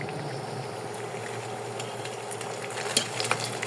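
A Mughlai paratha sizzles steadily in shallow hot oil in a pan, a continuous close crackle with a few sharper spits and pops near the end.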